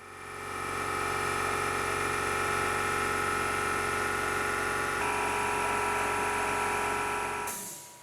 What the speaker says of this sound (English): is the noise my air compressor makes